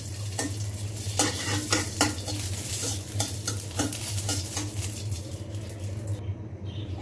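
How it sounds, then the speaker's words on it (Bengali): Green chilies fry lightly in a little oil in a pan, giving a steady close sizzle broken by repeated scraping and stirring clinks, with no voices. "এখন আমি মরিচগুলোকে আগে ভেজে নিব, হালকা একটু ভেজে নিচ্ছি"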